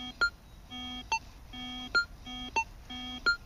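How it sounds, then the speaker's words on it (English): A repeating electronic beep pattern from a Signum 7272M metal detector over a silver chain: a low hum tone broken by sharp higher beeps, five target signals in steady rhythm, no voices. "notice this is STL RT, so that threshold cuts out right as the target beeps"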